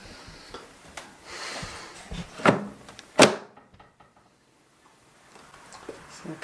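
An air fryer drawer slides into a Cosori TwinFry, making two short, distinct clunks less than a second apart, with soft handling noise before them and quiet afterward.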